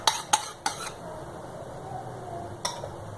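Qeema mixed with oil in a bowl: a few sharp clinks of a utensil striking the bowl in quick succession, then a softer wet stirring and one more clink near the end.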